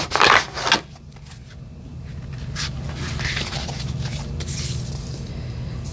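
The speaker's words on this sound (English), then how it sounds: "I'm going to pull two more cards here." Tarot cards being shuffled and pulled, heard as close papery riffles and swishes, a sharp burst at the start followed by softer intermittent card handling, with no talk.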